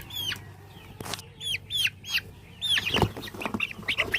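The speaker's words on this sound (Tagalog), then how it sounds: "So ito yung rooster natin." Rhode Island Red chickens on a farm, a rooster and hens, give repeated clucks and short squawks up close, with one louder burst partway through.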